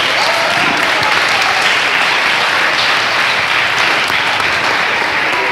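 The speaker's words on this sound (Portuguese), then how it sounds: "Muito bem, uma salva de palmas." A large church crowd at a vision-day event gives a dense, loud round of applause that holds steady without letup for several seconds.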